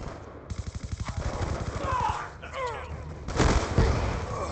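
B23R pistol fired in a video game: a rapid, evenly spaced string of close, punchy shots, followed by a couple of louder cracks and game noise.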